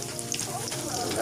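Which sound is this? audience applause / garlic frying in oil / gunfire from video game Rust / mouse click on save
garlic frying in oil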